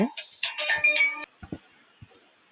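An incoming-call ringtone on a phone plays a loud, close, bright electronic melody for about a second, then a few soft taps and handling clicks follow in near silence.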